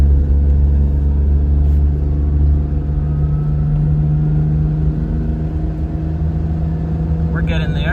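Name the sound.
Mitsuoka Ray car accelerating at full throttle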